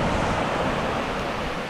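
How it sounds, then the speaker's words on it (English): Ocean waves on the Scottish coast make a steady, loud broadband wash of surf mixed with wind buffeting the microphone, with no voices. "look at these waves"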